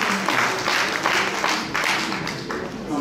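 An audience at a live Haitian quiz challenge applauds, a moderate burst of clapping that swells and fades over a few seconds, with faint voices mixed in.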